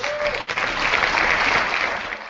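Crowd applause sound effect plays as a steady wash of clapping and cheering for a couple of seconds, starting abruptly and tapering at the end, with no talk over it.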